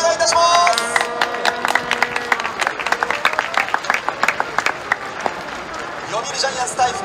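Stadium crowd at Tokyo Dome before Japan Series Game 4 between the Yomiuri Giants and Fukuoka SoftBank Hawks: a brief voice opens, then brisk, rhythmic clapping from a large crowd carries on steadily.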